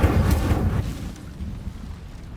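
Incendio fire spell cast in the Hogwarts Legacy video game: a loud low whooshing burst of flame that roars up at once and then fades into a rumbling crackle.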